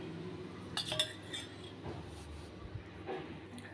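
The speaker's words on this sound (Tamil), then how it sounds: "முட்டையை வந்து நல்லா அடித்து வச்சுக்கிட்டேங்க" Eggs whisked with chicken powder in a bowl, giving a few light metallic clinks and taps of utensil against the bowl, fairly quiet and close, with scattered strokes rather than a steady rhythm.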